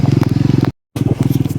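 A motorbike climbs a rough, steep mountain road in low gear. The engine thuds loud and close in a fast, even rhythm, with a brief total dropout in the middle before the same laboring pulse returns.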